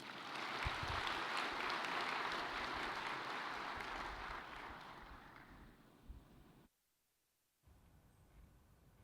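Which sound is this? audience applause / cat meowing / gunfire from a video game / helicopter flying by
audience applause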